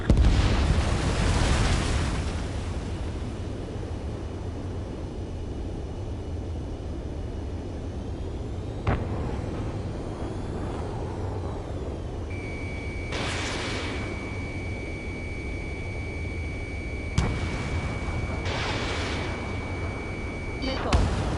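Missile explosions in a PS4 video game: a loud blast at the start, then scattered booms, whooshes and a steady electronic warning tone over a constant rumbling battle din.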